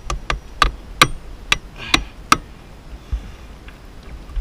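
Sharp hammer blows strike nails in a steady series of about seven hits, then a few fainter taps follow with pauses between, during metal lath work.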